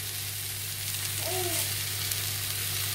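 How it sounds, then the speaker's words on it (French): A beef patty frying in a pan with a knob of homemade parsley butter, giving a steady, loud, close sizzle throughout, with a brief faint tonal squeak partway through. "Donc ma viande est déjà en cuisson. Je vais juste rajouter une petite noisette de beurre"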